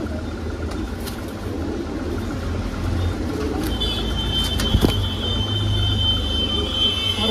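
Many Punjabi pigeons coo continuously at close range while a faint whine and a few sharp clicks rise over the birds midway, the low cooing holding steady underneath.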